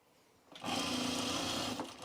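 A sewing machine stitches a 5/8 inch seam on trousers in one steady, close mechanical whirr lasting about a second and a half, starting after a brief quiet moment.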